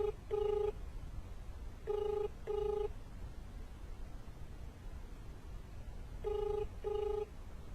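A telephone rings on an unanswered call, its tone sounding in three pairs of short electronic bursts with quiet gaps between them over a low steady hiss.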